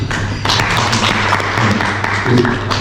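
An audience at a unification and security lecture gives applause for the interpreter, a dense burst of hand clapping that stays fairly loud and steady.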